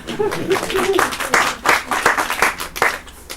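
Festival crowd applause at an outdoor bush festival, scattered hand claps and cheers rising and falling in uneven bursts, fairly close, with a voice briefly audible at the start.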